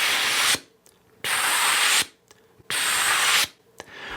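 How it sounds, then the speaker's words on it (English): Three bursts of forceful breath hiss, each roughly 0.8 seconds long, released through the lips of a brass player after the tongue stops the airstream, with short silent gaps between the bursts. "Step one is just to tongue stop an airstream."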